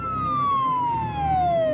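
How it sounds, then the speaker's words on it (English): A police siren wails loud and close, its single tone sliding steadily downward in pitch, with no voices over it. "The sirens couldn't be for me,"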